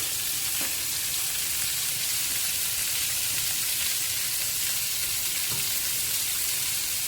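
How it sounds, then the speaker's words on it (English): Butter melts in a hot pan with a steady, even sizzle and crackle that runs unbroken throughout, with a couple of faint knocks. "we take that butter without dropping it on the floor, and we plop that in there to melt"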